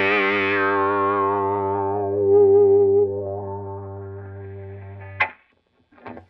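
An electric guitar note runs through a BB preamp pedal into an Xotic wah-wah, giving a fuzzy, distorted tone as the wah sweeps it from bright to dark. Two short, sharp picked attacks follow near the end.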